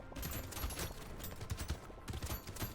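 Shotgun firing in the video game Brotato: a rapid, dense patter of close, crackling shots repeating steadily throughout a short burst of action, with little pause between blasts.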